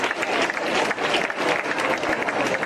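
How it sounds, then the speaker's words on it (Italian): Loud crowd applause at an Italian village food festival (sagra), dense clapping from many people close by, steady and continuous with slight swells, no clear talk on top. "Quindi facciamo un applauso a Cosimo, gentilmente."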